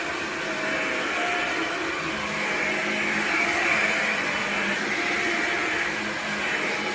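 A Hoover Linx Signature BH50020PC cordless 18V lithium-ion stick vacuum runs steadily on carpet strewn with coffee grounds, a continuous close whine and airy roar with no speech.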